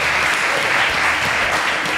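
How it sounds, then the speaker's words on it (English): A studio audience claps in a dense, steady burst of applause on a cooking show set, loud and even throughout with no voices over it. "Another round of applause for this."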